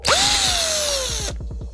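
A power driver spinning out T30 bolts from the side fairing of a 2020 Husqvarna 701 SM motorcycle: a loud close whir with a falling pitch, then it cuts off and leaves a faint rattling tail.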